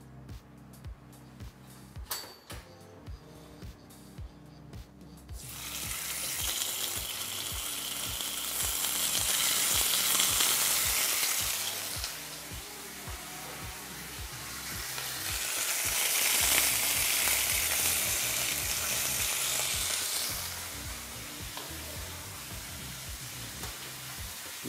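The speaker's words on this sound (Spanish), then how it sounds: "Vamos a sellar nuestro lomo." Pork loin sears in olive oil in a frying pan, with loud close sizzling that swells in two long surges, mixed with metallic clinks and scraping and no talk.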